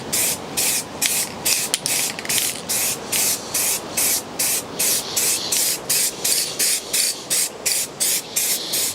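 Repeated short bursts of aerosol spray paint hiss onto stripped, cleaned and masked Porsche brake calipers, each burst about half a second long and evenly spaced, loud and close with brief gaps between.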